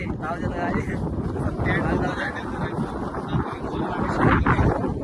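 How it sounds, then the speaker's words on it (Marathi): Strong wind near a Maharashtra waterfall roaring and buffeting across the microphone, a continuous heavy rumble with gusts that swell toward the end. "जाम वारा सुटलाय."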